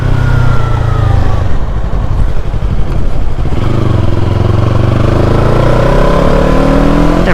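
Motorcycle engine, a Yamaha R3 or MT-07, revving loud and close, its pitch rising and falling through repeated throttle blips with no talk over it.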